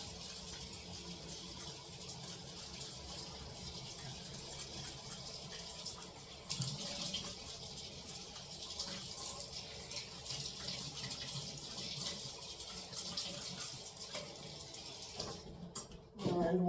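Kitchen tap running steadily into a sink while a pepper is washed under it, a continuous splashing hiss that shifts briefly as the pepper moves through the stream, ending with a few clatters.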